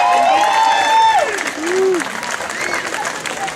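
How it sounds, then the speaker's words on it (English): Applause for graduating students fills a high school graduation ceremony at Citrus High in Porterville, California, steady and loud throughout, with a voice talking over it. "Please join me again in giving these amazing students another round of applause."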